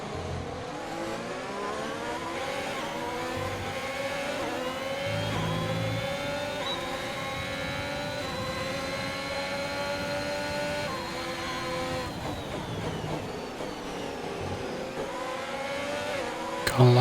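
Formula One race car engine from the F1 2021 video game revs in a sustained high whine with shifting harmonics, steady and loud throughout, with brief gear changes and no talk over it.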